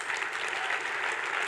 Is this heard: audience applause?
yes